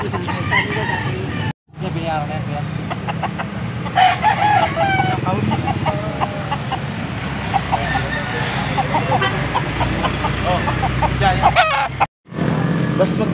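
A Golden Boy gamefowl stag, about six months old, crows repeatedly at a market in Angeles City, Pampanga, with other roosters clucking and crowing around it, traffic in the background and two brief dropouts.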